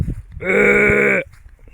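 A cow lowing in a rural field in Laos, one sustained, loud, nearby moo of under a second with a strong harmonic tone, set between quieter background noises.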